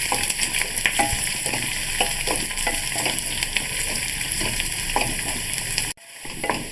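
Green chillies, ginger and garlic sauté in a pan for lime pickle, giving a steady close sizzle broken by repeated spoon scrapes and taps, with a sudden brief drop near the end.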